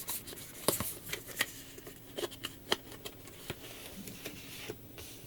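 Tarot cards are handled and flipped open close by, making soft scattered clicks, snaps and papery shuffles at an uneven pace against a quiet room, with no one speaking.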